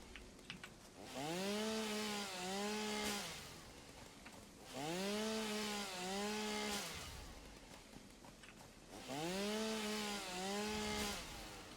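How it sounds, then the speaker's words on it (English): Chainsaw in the video game Satisfactory revving in three separate bursts, each rising and then holding a steady buzzing drone before cutting off, loud and close with no talk. "And this is why I unlocked the chainsaw real early."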